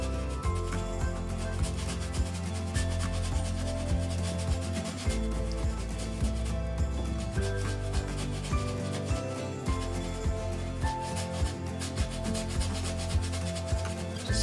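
Close, steady scrubbing of a brush rubbing acrylic paint onto canvas, a continuous rough rubbing texture with a faint rhythmic pulse and no talk.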